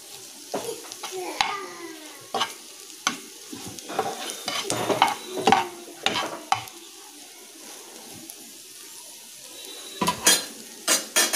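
Fried ingredients stirred into boiled vegetables in a pan, with intermittent loud clanks and scrapes of a utensil against the pan over a faint sizzle, uneven bursts separated by quieter pauses.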